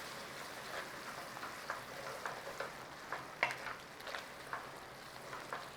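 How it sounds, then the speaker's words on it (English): Pasta sauce loosened with a splash of pasta water being stirred in a pan, giving a soft, steady sizzle with faint scraping strokes and light clicks scattered through it, fairly quiet and with no talking. "A nice little stir in."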